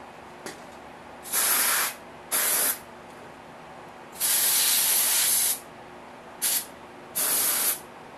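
Ether sprayed from an aerosol can to clean a welder switch surface before applying heavy-duty epoxy, heard as five short hissing bursts of varying length separated by quiet pauses, close and loud with no talking.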